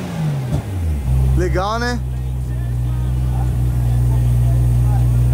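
A Nissan 350Z fitted with a forged 1JZ engine revs through its exhaust: one quick rising rev, then a loud, steady, throbbing idle, with someone speaking briefly at the start.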